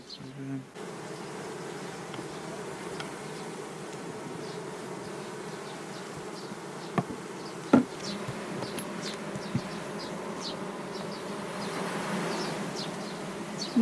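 Honeybees swarm around an open beehive during a honey harvest in a Ural village, giving off a continuous close buzz with a few sharp knocks and clatters over it.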